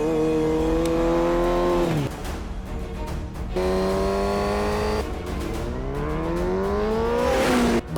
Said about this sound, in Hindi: यामाहा R1 बाइक हेलमेट के साथ क्रॉस कर रहा है,